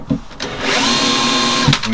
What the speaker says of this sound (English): if you just countersink the hole, that will stop you from chipping